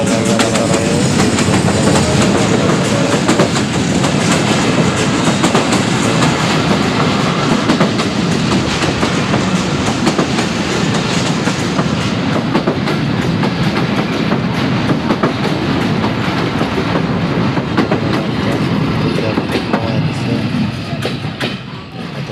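A train rumbles loudly and steadily nearby, wheels clattering on the rails throughout, with voices faintly under the noise as it slows toward the end, approaching a station.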